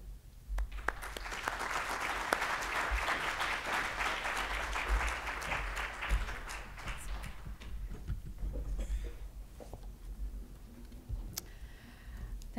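Sustained applause from a large audience at the Ag Innovation Summit at CSU welcoming a keynote speaker, dense clapping filling the room and slowly thinning toward the end.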